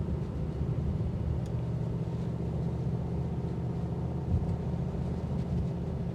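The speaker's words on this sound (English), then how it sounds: "I just want you to hear what that exhaust sounds like for a second" A 2025 Mercedes-AMG GT63 coupe on the move, its exhaust a steady, deep rumbling drone that holds at one level throughout with no voices over it.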